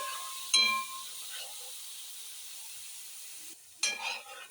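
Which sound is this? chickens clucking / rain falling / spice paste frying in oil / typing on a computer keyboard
spice paste frying in oil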